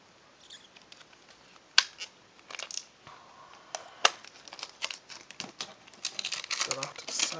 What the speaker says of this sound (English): Let's go ahead and peel off all this plastic here